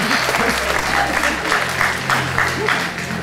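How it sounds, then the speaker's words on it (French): A pageant audience at the Miss Lorraine 2013 election applauds candidate number 18, a thick, steady wash of clapping over a low musical hum that carries on evenly throughout. "Que je vous demande d'applaudir"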